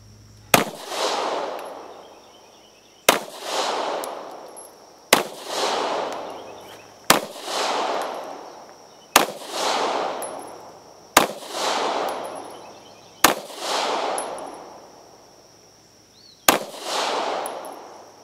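Taurus GX4 pistol fired in a steady string of eight sharp, loud reports, each spaced about two seconds apart with a ringing decay, at an outdoor shooting session alongside a Beretta APX A-1.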